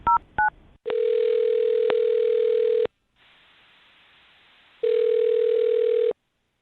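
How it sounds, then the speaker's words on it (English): A telephone line gives two brief touch-tone beeps, then a steady dial tone, a pause of faint line hiss, and a second stretch of tone, loud and close with no voices. "I'll dial her phone number right now"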